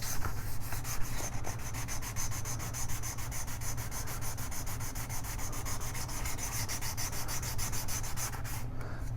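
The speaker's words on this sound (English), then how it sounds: "You'll feel it when you're sanding it." A wooden guitar kit body, a Leo Jaymz BC kit, is hand sanded with quick, even back-and-forth rasping strokes, close and steady throughout with no talk.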